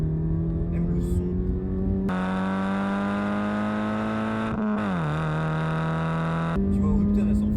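A Hyundai Coupé engine revs and accelerates, a steady harmonic drone climbing in pitch, dipping briefly, then rising again, loud and close inside the car with some talk in the background.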